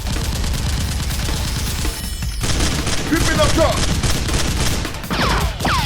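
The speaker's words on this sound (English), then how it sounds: "Without hesitation, they shoot at SWAT." Toy Nerf guns fire in a staged criminal-versus-SWAT fight, with dense, rapid bursts of shots and booming effects in a loud, continuous barrage, with laser-like whooshes over it.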